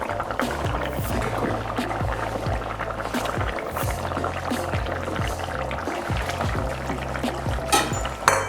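Rohu fish pieces drop into a simmering curry with okra and potatoes, giving a steady bubbling and sizzling wash of liquid sound throughout, close and fairly loud, with no talk.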